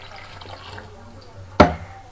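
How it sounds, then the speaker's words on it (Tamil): Soaked tamarind water poured into a pan of brinjal curry, a brief splashing pour near the end after a quiet kitchen stretch with faint low hum. "இப்போ கரைச்சி வச்ச புளி அதில் சேர்த்துக்கலாம்."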